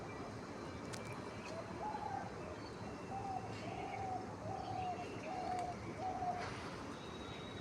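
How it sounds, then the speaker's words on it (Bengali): Pigeons coo on a rooftop in a repeated series of soft, low calls at moderate distance, with faint chirps and a quiet ambient hum. "আমাদের এখানে প্রচুর পায়রা"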